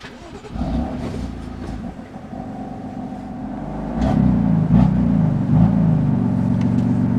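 A BMW F80 M3 with an aftermarket exhaust cold-starts, its engine settling into a steady, loud, droning idle that rises to a higher, rougher rumble partway through and stays there to the end.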